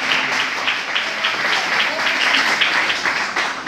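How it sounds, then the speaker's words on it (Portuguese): A church congregation applauds during a baptism service, many hands clapping steadily and fairly loudly, with a few faint voices mixed into the sustained clatter. "Dá aplausos ao Senhor pela vida de irmão Marcos"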